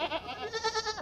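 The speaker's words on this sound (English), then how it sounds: "This girl has taught her boys how to be the most vocal of goats" Goats bleat loudly at feeding time, a rapid run of vocal, wavering bleats pulsing in quick succession, close and continuous for about a second.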